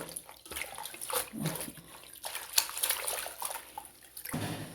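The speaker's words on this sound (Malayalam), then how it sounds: "ഞാൻ നല്ല ചൂടുവെള്ളത്തിൽ കഴുകി" Water splashes and sloshes in uneven bursts as milk spinach leaves are washed in hot water, moderately close with pauses between movements and faint background sounds.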